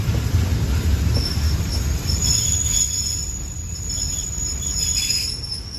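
Special express train no. 39 overtakes a stopped passenger train at Ban Duan station in Chumphon, Thailand: a steady rolling rumble topped by high, shrill wheel squeal, with insects chirping throughout and no voices.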